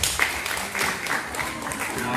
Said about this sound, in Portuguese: E desde já peço uma salva de palmas para todos nós.